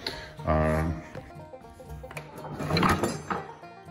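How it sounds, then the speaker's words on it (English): A large wooden tool drawer on a vintage Ulmia workbench is pulled open, giving a loud rattling, clattering scrape in two bursts with loose contents knocking about, close by in a quiet workshop. "It's a tool drawer here, and I'll open it up for you."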